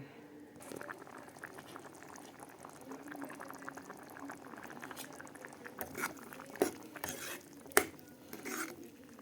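Wild mushroom curry simmering in a pot bubbles and gurgles quietly and close, with soft liquid stirring and a few sharper clinks of a spoon against the pot toward the end, no speech.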